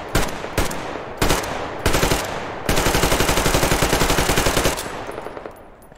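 Video game gunfire in Metro Exodus: three single loud shots spaced about half a second apart, then a sustained rapid automatic burst lasting around two seconds that trails off into faint echoing clatter.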